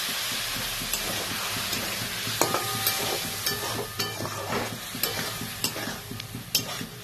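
Aloo dum sizzles in a pan as a little water goes in. A close, steady hiss runs under repeated clinks and scrapes of a stirring spoon, moderately quiet and without speech.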